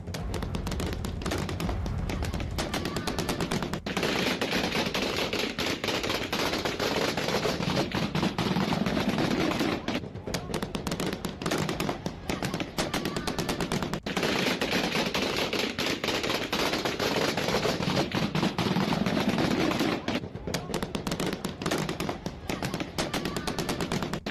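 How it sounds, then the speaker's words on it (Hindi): Long bursts of rapid gunfire rattle on and off, fast automatic shots crackling at a distance with a continuous noisy background. "ये जो गोलियों की तड़तड़ाहट है"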